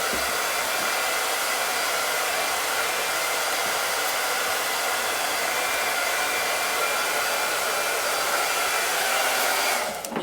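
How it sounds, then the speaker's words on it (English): A hair dryer blows steadily with a loud, even rushing whir that holds for about ten seconds, then cuts off abruptly at the end. "So while he puts up the butcher paper, I'll just hit it with the hot gun or hair dryer."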